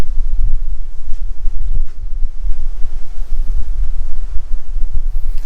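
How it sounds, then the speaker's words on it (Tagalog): Strong gusts buffet an outdoor microphone on a farm, giving a continuous low rumble with repeated heavier thumps throughout, loud and close, with no voices. "Medyo malakas ang hangin kaya ganyan gumaganyan nga."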